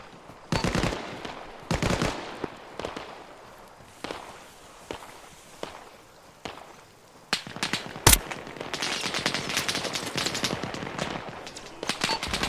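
Gunfire in the military video game Arma Reforger: scattered single shots and short bursts at first, then a sharp loud crack followed by sustained, dense automatic fire with footsteps mixed in.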